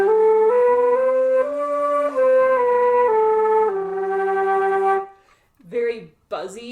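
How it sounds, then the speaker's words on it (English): Flute played while singing into it at the same time, giving a buzzy, doubled tone of sustained notes stepping through a short phrase, then a pause and two brief breathy bursts. "When you sing and play at the same time, it's going to sound something like this."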